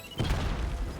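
A Semtex grenade blast in Call of Duty: Warzone, a single heavy crash with a low rumbling tail lasting about a second, close and loud.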